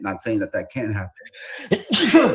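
A single sharp sneeze bursts out right after a man's short spoken remark, with a quick intake of breath just before it, close and loud.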